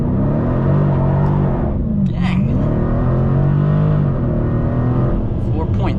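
A 2020 Dodge Challenger Scat Pack Widebody during a 0-60 acceleration run, its engine droning loud and steady from inside the car, pitch dipping and climbing with gear changes, with a voice talking over it.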